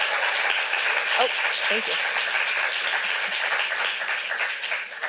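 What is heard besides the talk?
audience applause for a young playwright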